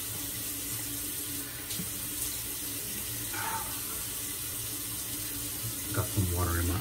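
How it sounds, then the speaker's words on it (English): Water runs steadily from a tap into a sink nearby, a constant splashing hiss, with a voice briefly heard near the end. "Sorry for the running water."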